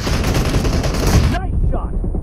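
Sniper rifle fire from an M24 in a PUBG Mobile team deathmatch, loud dense crack-and-boom reports packed closely together, ending in a sudden cutoff with faint ringing decay.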